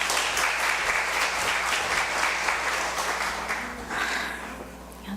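A church congregation at a Korean baptism service claps warmly as a woman comes forward. The applause is steady, dense and near for about four seconds, then thins out toward the end.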